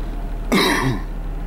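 A single brief cough or throat-clear from a congested man, close and fairly loud, breaking an otherwise quiet room.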